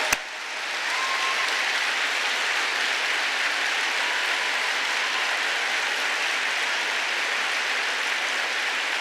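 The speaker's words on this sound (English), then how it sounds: "We should clap for those young people, because if you were a member of a family, we should clap for them." An audience applauds Vice President Joe Biden's political speech at the Netroots Nation 2014 conference. After a brief opening thump, loud, dense clapping from a large crowd holds steady throughout, with no talking.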